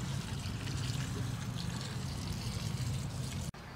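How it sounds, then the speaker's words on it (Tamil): Basmati rice being rinsed in water, a steady close splashing and trickling that runs without a break, with a brief drop in sound near the end. "அரிசி 2-3 தடவை கழுவி எடுத்தாச்சு."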